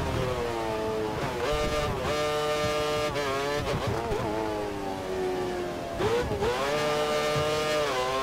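Formula One car engine in the F1 2013 racing game on the British Grand Prix circuit, a high, whining engine note that climbs and drops repeatedly through gear changes, loud and continuous with no speech.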